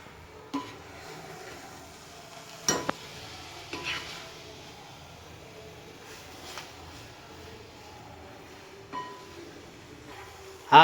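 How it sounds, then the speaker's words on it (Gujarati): Fenugreek greens are stirred with roasted gram flour in a pan, producing soft scraping and a faint sizzle, punctuated by occasional sharp knocks of the spoon against the pan. "થોડી વાર આપણે આવી રીતે મિક્સર કરશું એટલે બધું મિક્સ થઈ જાય।"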